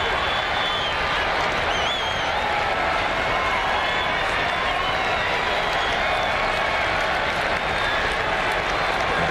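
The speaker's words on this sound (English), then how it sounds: "7-inning stretches seem to wake up the fans a little bit here at Camden Yards as they're up and clapping a little bit" Baseball fans at Camden Yards on opening day 1998, Royals at Orioles, clapping and cheering through the seventh-inning stretch, a steady dense wash of stadium applause with an announcer talking over it.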